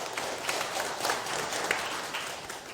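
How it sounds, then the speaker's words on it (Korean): An audience at a lecture hall talk applauds at moderate distance, a steady, fairly soft patter of many hands clapping that continues throughout without speech. "박수 한번 쳐주세요."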